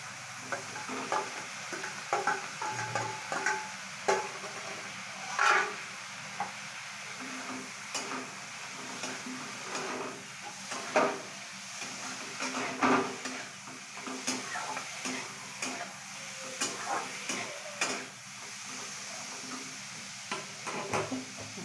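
Potatoes fry alongside bitter gourd in a pan for a bitter gourd and prawn dish, a low steady sizzle broken by frequent stirring clicks and scrapes, quiet and without speech.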